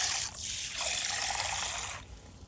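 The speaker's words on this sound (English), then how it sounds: "fill these up with water" Water from a tap pours into a vase being filled for flowers, a soft, steady splashing rush that shifts in pitch midway and tapers off near the end, quiet and close.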